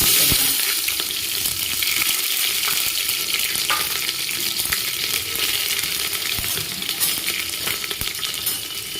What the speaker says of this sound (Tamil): கருவேப்பிலை, வரமிளகாய், அடுத்து சின்ன வெங்காயம் அரிஞ்சு வச்சுருக்கிறது